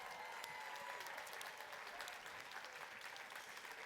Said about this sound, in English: let's give everyone here a giant round of applause for the work you've done.